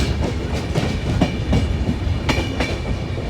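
A passenger train rolling through Jalandhar Cantonment station without stopping, heard from on board: a steady loud rumble with rhythmic clickety-clack of wheels over rail joints, continuous and close, with no voices.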